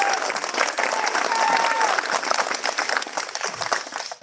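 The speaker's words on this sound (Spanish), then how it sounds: "aplauso por favor" An audience at a Christmas children's project event applauds in a steady, full burst of clapping with a few cheers and voices mixed in, continuing throughout.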